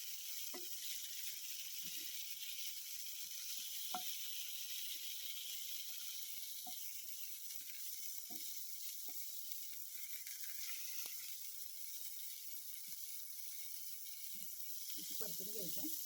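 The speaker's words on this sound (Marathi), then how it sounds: "फक्त हे भाजून घ्यायचं आहे जरा." Chutney ingredients roast lightly in a pan. A faint, steady sizzle hisses under scattered soft clicks and taps of stirring.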